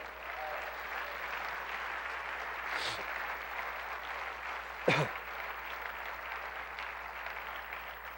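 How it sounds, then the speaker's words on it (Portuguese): Congregation in a Brazilian family church service applauding the Lord, a continuous even patter of many hands at moderate distance, broken by a couple of brief louder knocks or thumps. "Aplauda o Senhor."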